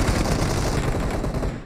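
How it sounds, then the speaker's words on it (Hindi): Gunfire in the mobile battle royale game BGMI crackles as a dense, continuous burst of rapid shots, loud and close for the whole stretch without talking. "भाई कहाँ चल रही गोलियां?"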